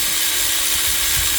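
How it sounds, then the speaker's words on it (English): An electric wrench works a power steering pump bolt on a Nissan Navara D40 with a 2.5L diesel engine, giving a steady, loud whirring buzz that runs unbroken through the short burst, close to the microphone. "So the electric wrench is really coming in clutch for this job"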